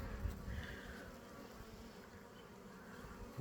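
A steady, dense buzzing of many honeybees swarming close by, a continuous low drone with no voices.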